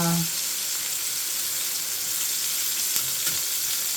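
Garlic and onions sizzle loudly in a hot stir-fry pan with chicken and vegetables, a steady close hiss throughout, with a few faint clinks and a brief voice at the very start.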